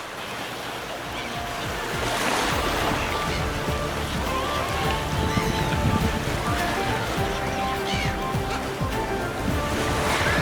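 Waves break and wash on a windswept South African shore, a continuous rushing surf that swells louder after the first couple of seconds and stays steady and fairly near.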